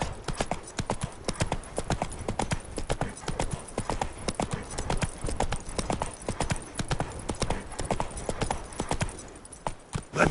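Rapid clip-clop of Roach the horse galloping in The Witcher 3, a steady run of close, loud hoofbeats lasting the whole stretch, with brief voices in the background.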